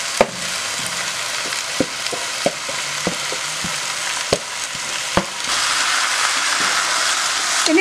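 Marinated chicken sizzling and frying in a pan with onion, ginger and garlic, a steady loud crackle punctuated by sharp scraping stirs, the hiss swelling louder toward the end.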